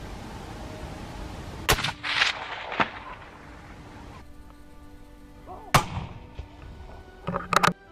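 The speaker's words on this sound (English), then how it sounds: "Suddenly, gunshots rang out, and each baboon fell to the ground" Several sharp gunshots crack out at intervals, a pair near the start, one midway and a quick cluster at the end, over a faint background.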